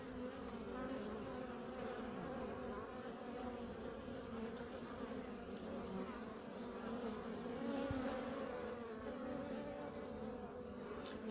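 Honey bees buzz steadily around a hive entrance as drones fly in, a dense continuous hum of many insects with a brief louder pass close by near the end.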